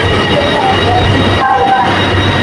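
A passenger train pulling away from a station in Kuala Lumpur, Malaysia, gives a loud, steady rumble of wheels and carriage noise that runs close and unbroken throughout.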